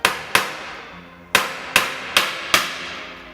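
A hammer strikes a tapping tool to drive a pressed Quad Lock charging unit out of its mount on a workbench. Six sharp metallic knocks come at an uneven pace, close and loud, each with a short ringing decay.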